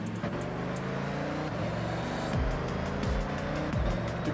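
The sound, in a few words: car engine in the video game Forza Horizon 6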